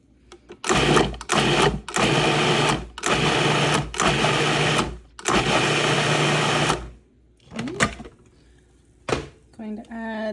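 A food processor pulses homemade salsa in a run of loud, steady whirring bursts of about a second each, separated by short gaps. The last few seconds go quieter, with some softer handling sounds and a few faint noises.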